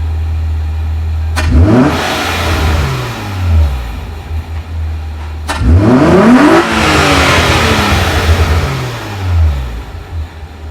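A 2008 Hyundai Tiburon with an aftermarket intake revs twice from idle, first to a moderate climb, then a harder sweep up to redline, each rise and fall loud and close over a steady idle.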